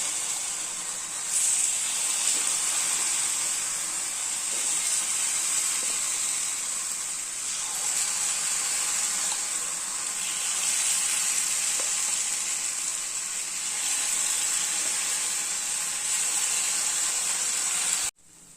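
Puffed rice paniyaram batter sizzles in an oiled pan, a steady bright hiss of frying that holds for the whole stretch, with no talking.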